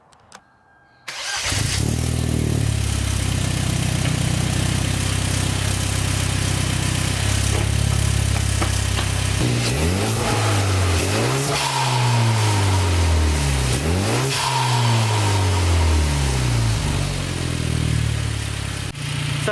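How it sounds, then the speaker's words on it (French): A car engine fitted with a new intake and blow-off valve starts, idles with a steady rumble, then revs several times in quick rising and falling bursts, loud and close, with no talk. "je viens d'entendre la blow-off valve juste en donnant du gaz dans le vide"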